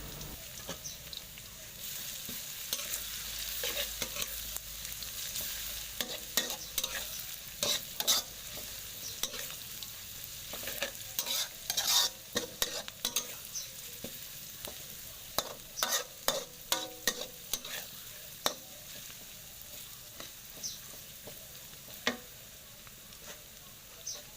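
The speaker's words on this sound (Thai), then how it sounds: "เราก็ใส่กระเทียมที่เราเอาไปตำไว้แล้วนะคะ ลงไปเจียวด้วยกัน ให้มันเหลืองสวยด้วยไฟอ่อน ๆ นะคะ" Pounded garlic and shallots frying in oil over low heat, a steady soft sizzle with frequent stirring scrapes and clinks from a spatula, close by and without talk.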